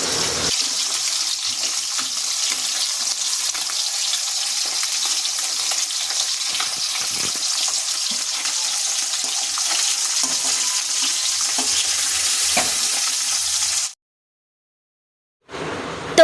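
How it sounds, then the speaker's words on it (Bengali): Egg fritters with chopped onion and chilli frying in hot oil give a loud, steady, close sizzle for about fourteen seconds, then it cuts to near silence. "আমি গরম গরম ডিমের বড়া করছি"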